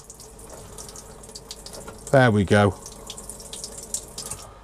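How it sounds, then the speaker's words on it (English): Tap water runs steadily into the tank of a Sunlight Cliff 600 camper van, a constant hiss nearby that continues under a brief spoken phrase. "We've got the water coming through."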